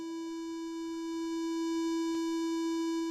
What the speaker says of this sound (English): Now we're a sine wave.